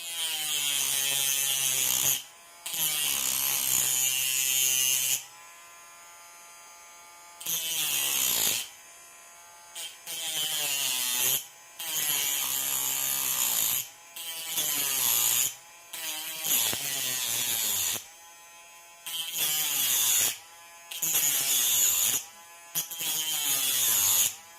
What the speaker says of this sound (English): So now I'm just going to hit this with the Dremel and cut it down